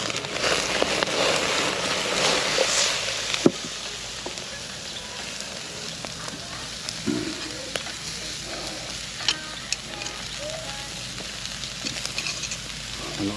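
Food fries over a strong fire, giving a steady crackling sizzle throughout with occasional louder pops and scraping stirs, close by.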